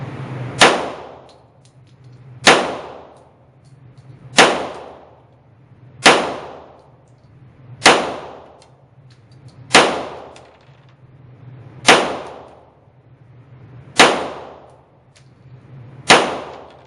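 A VMAC45 .45 ACP MAC-10-style pistol fires nine loud, sharp single shots at a target, evenly spaced about two seconds apart. Each report is close, with a ringing decay.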